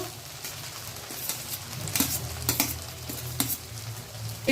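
Rice with sugar being stirred in a pan over a low flame for Bashonti polao, soft sizzling under a series of scraping strokes of a spoon against the pan, close up with no talking.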